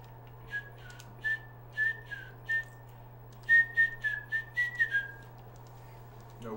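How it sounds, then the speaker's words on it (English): A person whistles a short melody in distinct phrases, several clear notes in two bursts separated by a pause, close and fairly quiet over a low steady hum. "No whistling on screen."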